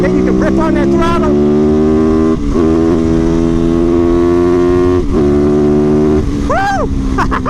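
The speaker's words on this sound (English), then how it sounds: "Then you can rip on that throttle" A supermoto motorcycle engine revs hard under throttle, loud and close, climbing through gears with short dips at each shift and a final sharp rev, alone without talk.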